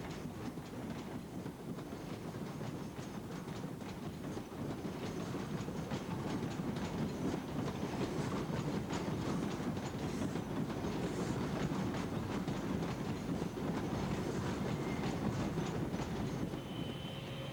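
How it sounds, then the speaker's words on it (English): An InterCity 125 high-speed train on the Highland Chieftain service from London to Inverness, a continuous rumbling roar with rhythmic clickety-clack of wheels over rail joints, steady and fairly distant, with no talk. "this is the Down Highland Chieftain from London to Inverness, a journey completed in just over 8 hours"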